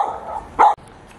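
A dog outside a grocery store in Longyearbyen, Svalbard, gives a single short, loud bark close by after a moment of faint whining, with no talking.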